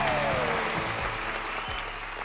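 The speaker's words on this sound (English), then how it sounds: "So how about a round of applause for you guys?" A stadium crowd at a Yankees versus Braves baseball game gives a sustained round of applause, a dense, even wash of clapping with a faint tone sliding down at the start and occasional low thumps.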